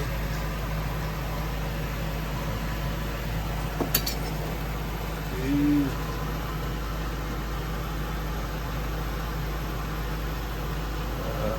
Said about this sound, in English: I have the exhaust fan on because we have to.